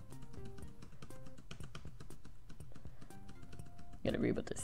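Computer keyboard keys clatter in quick, irregular taps and repeated presses during gameplay, close by, with game sounds and a voice in the background and a louder burst near the end.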